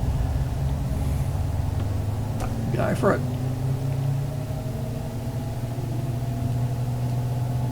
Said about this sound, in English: Let's just give it some revs and